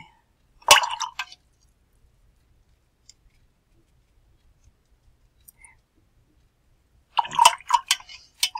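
A brush dabs watercolor paint and water onto paper in two short bursts of wet clicking and squishing, close and fairly loud, separated by a long near-silent pause.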